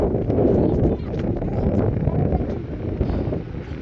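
Strong wind buffets the microphone in loud, gusty rumbling bursts, continuous throughout, with a voice faintly mixed in.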